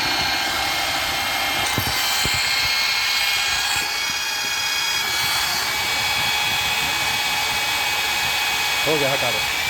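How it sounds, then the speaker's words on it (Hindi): Steady, close whine of a Hilti power drill in normal drill mode, with a couple of brief knocks early on and a short voice-like burst near the end. "तो जब ये नॉर्मल ड्रिल में चल रहा होगा तो"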